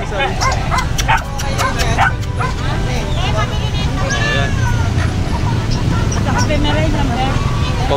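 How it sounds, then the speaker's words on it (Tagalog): Dogs at an outdoor animal market bark and yip repeatedly in short, sharp bursts over a constant crowd hubbub and nearby chatter, with occasional whimpers and passing traffic in the background. "Ano po yung mga magagandang aso mo dyan, Ate Virgie?"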